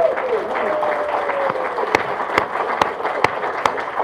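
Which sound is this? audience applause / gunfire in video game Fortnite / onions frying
audience applause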